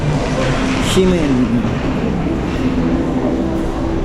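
Steady rumble of a Taipei MRT metro train in motion, with faint clicks and a brief high squeal, and voices talking over it.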